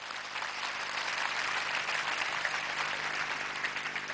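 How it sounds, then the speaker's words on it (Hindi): Sustained, dense applause from an audience at a Hindi talk gathering welcoming members of the Salasar priest family, a steady crowd clapping at an even level throughout with no speech over it. "एक बार तालियां बजा के आपका स्वागत करें"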